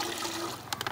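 Water poured from a glass into a cooking pot for rice outdoors, a steady close trickle and splash running alone, with a few sharper splashes near the end.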